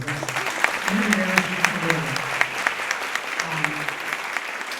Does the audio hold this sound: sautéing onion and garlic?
no